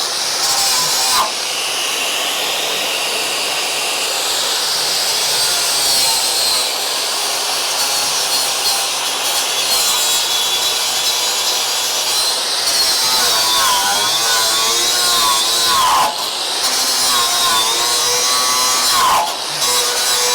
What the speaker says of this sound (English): I'm gonna grind that and redo it.